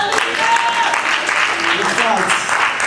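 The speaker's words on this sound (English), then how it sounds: "Let's clap for Jesus." A church congregation claps together in sustained, loud applause, with a voice and some cheering mixed in over the clapping.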